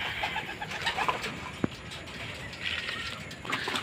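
Racing pigeons at a loft during a derby arrival, soft repeated cooing calls close by over a faint background hiss, with one sharp click partway through.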